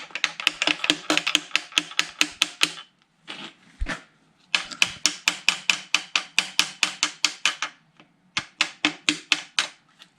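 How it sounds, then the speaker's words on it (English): A hammer with a wooden handle striking a bolt on a 1952 Studebaker 2R5 half-ton truck frame during a Dodge Dakota frame swap, with rapid, even, sharp metallic taps in long runs and brief pauses, close and loud. "I usually do hit the bolt down just a bit with the hammerhead, the wooden handle."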